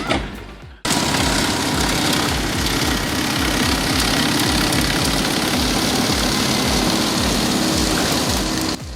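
A Moose Max wood chipper's engine runs at a steady, loud idle with a rapid low chugging pulse, starting abruptly after a brief moment and continuing alone without talk.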